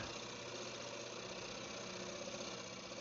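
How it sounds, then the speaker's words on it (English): Wood lathe finish-turning a brook trout bowl with light cuts, the piece friction-driven against a padded waste block with the tailstock brought up; a steady, continuous hum and whir with a dense, rough texture runs throughout without pause. "we're just going to take light cuts"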